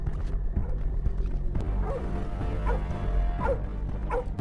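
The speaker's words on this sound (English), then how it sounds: "the police hounds suddenly start barking near the lake" Police hounds bark repeatedly near a lake, a run of steady, evenly spaced woofs at a moderate distance over a low rumbling background.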